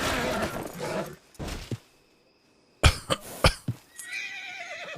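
A horse in a video game neighs and whinnies among short bursts of game sound, with one long whinny near the end of a short, busy passage.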